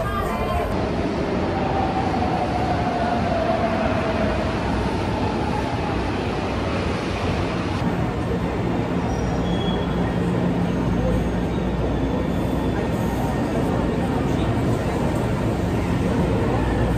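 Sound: São Paulo metro train, yellow line

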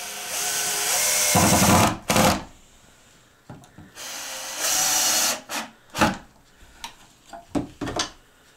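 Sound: sawing wooden bars into frame blanks

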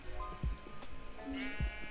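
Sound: sheep bleating in Minecraft video game

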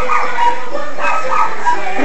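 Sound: dog barking

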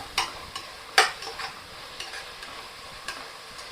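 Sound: onions sautéing with salt in a pan for biryani

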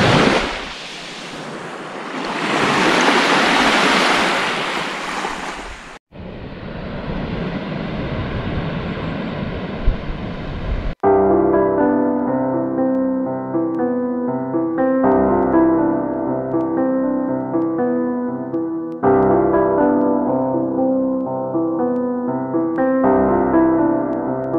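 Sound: waves on the Lake Superior beach

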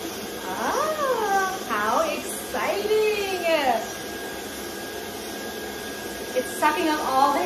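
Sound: vacuum sucking up Bernese Mountain Dog hair while grooming

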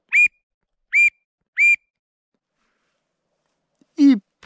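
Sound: duck hunting call whistled to imitate a wigeon

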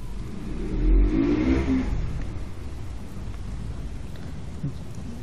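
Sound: heavy rain in Uncharted: The Lost Legacy video game

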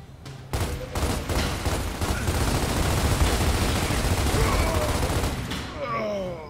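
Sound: gunfire from a leg shot in the video game Gears of War

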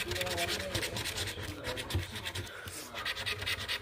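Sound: scratching a scratch-off lottery ticket

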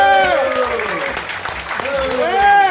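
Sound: audience applause for comedian Stavros Halkias

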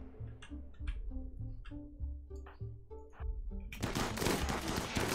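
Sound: gunfire in the video game RimWorld

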